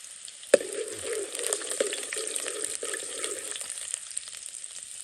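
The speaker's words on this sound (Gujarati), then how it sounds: "હવે આપણે ડુંગળીને શેડાવવાની છે." Onion sautéing in a pan for Kathiyawadi brinjal oro, a steady close sizzle and crackle with a sharp clatter near the start and scattered stirring scrapes throughout, no voices.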